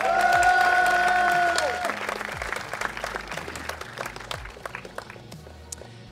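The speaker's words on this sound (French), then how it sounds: "on applaudit Devil Tifa." A crowd breaks into sustained applause as music fades out, the clapping gradually thinning toward the end.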